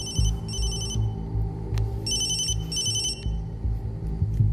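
An electronic mobile phone ringtone chirps in repeated short bursts over a low, steady rumble of background noise, in an action film scene.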